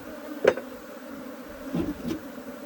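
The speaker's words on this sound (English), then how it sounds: "there's a big, huge cluster of bees back here" Africanized honey bees clustered in the back of a truck hum and buzz close by, with a few short louder passes standing out over a steady low drone.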